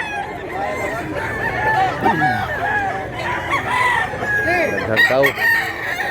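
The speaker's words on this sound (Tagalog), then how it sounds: "Daming manok." Chickens and roosters cluck and crow repeatedly at a busy market in Mantalungon, Barili, Cebu, with several crows rising over a dense crowd murmur while people talk nearby.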